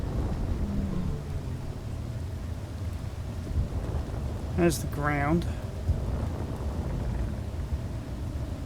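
Heavy rain in Space Engineers, a steady broadband wash with a low rumble throughout, under a voice talking and a brief tonal beeping in the middle.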